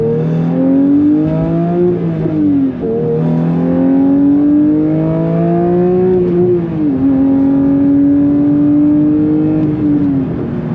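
A 2023 Porsche 911 GT3 Touring with a 6-speed manual pulls hard through the gears, its loud engine note climbing in pitch, dropping briefly at each of about three upshifts, then rising again, heard close from inside the car.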